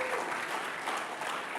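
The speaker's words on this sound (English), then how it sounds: "I feel like you should clap or something." An audience at an apologetics conference in a seminary hall breaks into applause, a dense, even patter of many hands clapping, moderately distant and sustained, with no distinct voices.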